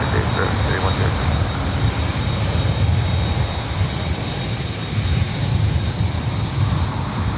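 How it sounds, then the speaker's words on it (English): A KLM Dreamliner jet airliner rolls for takeoff on the north side at LAX, a steady, broad engine roar holding loud and constant throughout, with faint radio chatter under it. "Beautiful KLM Dreamliner next up for takeoff here on the north side."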